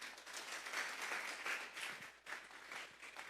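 A church congregation claps and applauds at a sermon, a steady dense wash of many hands, fairly distant and moderate, easing slightly then continuing to the end.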